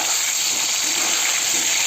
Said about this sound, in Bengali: আলুগুলোকে ভালো করে ভেজে নিতে, ভাজার মধ্যেই অর্ধেক সেদ্ধ করে নিতে হবে।